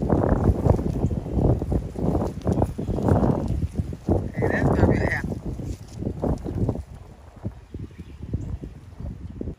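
Strong wind gusting outdoors in a garden, buffeting the microphone with loud, low rumbling bursts, and a brief brighter tone partway through.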